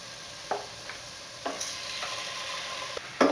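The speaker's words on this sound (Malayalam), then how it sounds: "ഇനി ക്ലീൻ ചെയ്ത് വെച്ചിട്ടുള്ള ബീഫ് ചേർത്ത് കൊടുക്കാം." Cleaned beef, over half a kilo, goes into a pan of frying masala, giving a soft sizzle with a few scraping stirs and clanks from the spoon. No voices.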